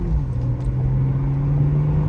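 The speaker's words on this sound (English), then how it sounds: "this is the stock exhaust system still" A 2020 BMW M340i with its B58 engine and completely stock exhaust pulls away, giving a low, steady engine drone that stays fairly quiet and even throughout, with no voices over it.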